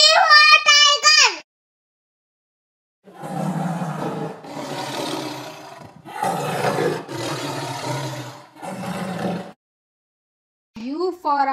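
A tiger roars in four or five long, rough bursts separated by brief pauses, loud and close, with short sung bits of a children's phonics alphabet song at the start and end.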